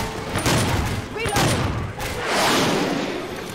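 Rapid gunfire in Left 4 Dead 2, with bursts of overlapping shots and booming reports in quick succession, loud and close, with a brief lull before another rise.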